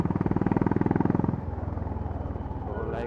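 Honda CB350 RS motorcycle exhaust while riding through city traffic, a loud, close, rhythmic single-cylinder thump that eases off midway as the engine settles into a lower steady beat.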